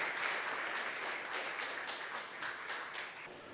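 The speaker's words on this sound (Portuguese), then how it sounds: "Fica de pé, aplaudindo, aplaudindo, aplaudindo o Senhor." A congregation at an evangelistic crusade claps and applauds steadily, a dense wash of many hands filling the room, fairly loud throughout and tapering slightly at the end, with no speech over it.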